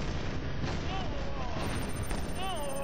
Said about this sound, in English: Everything is exploding right now.